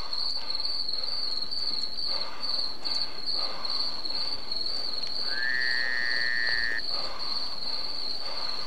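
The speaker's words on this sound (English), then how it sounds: "the crickets are so goddamn loud they can't hear me. And the fucking frog." Crickets chirp in a dense, continuous high-pitched drone throughout a nighttime outdoor scene in the video game The WarZ, with a frog croaking intermittently underneath and one long sustained tone rising midway.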